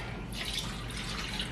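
Melted butter poured into a bowl while making cookie dough, a steady, close liquid trickle with a soft splashy hiss running unbroken and evenly loud through the short moment, with no voices.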